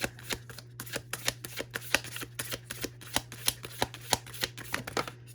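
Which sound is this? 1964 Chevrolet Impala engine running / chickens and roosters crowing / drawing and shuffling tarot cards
drawing and shuffling tarot cards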